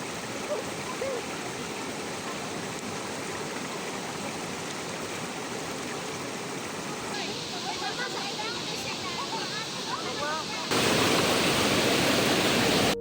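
Sak-a Falls, a mountain waterfall, roars in a steady, dense rush of falling water that fills the whole clip, growing suddenly louder near the end.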